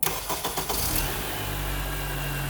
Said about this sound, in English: Fire the car up.